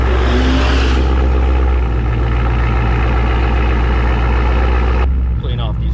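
A supercharged Whipple Ford F-150 truck launching in a drag race, roaring loudly and steadily for about five seconds before cutting off abruptly, with talk mixed in.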